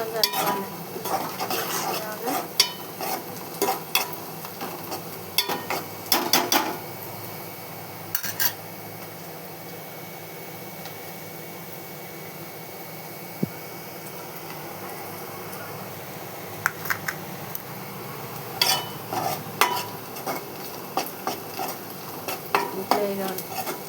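Food being stirred and mixed in a pan, with repeated scraping and clinking of a utensil against metal over a low sizzle, coming in bursts separated by quieter stretches.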